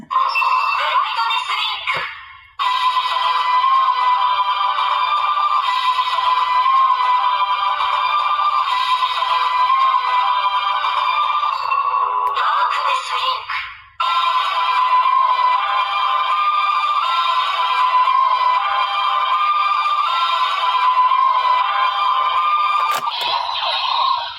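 A Kamen Rider Gotchard DX Majestydriver toy belt plays its electronic music loudly and steadily, a bright looping tune with brief pauses near the start and midway, and no voices over it.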